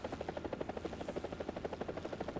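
An MD500 Little Bird helicopter in the War Thunder video game gives off a steady, rapid rotor thump with an engine drone beneath, continuous and close.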